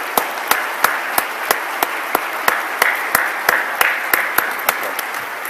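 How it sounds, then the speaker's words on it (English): A commencement ceremony crowd claps, broad steady applause with a few sharp, regularly spaced close hand claps cutting through, loud and continuous for several seconds. "Please, let's give them a round of applause."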